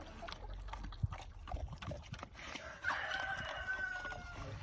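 Farmyard hens and a rooster clucking and crowing at feeding time, faint and distant, mixed with scattered scratching and shuffling noises.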